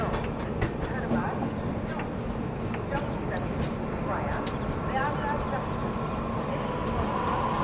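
The Mahamana Express between Varanasi and New Delhi, newly converted to LHB coaches, gives a steady, loud rolling rumble that runs unbroken under a voice talking nearby.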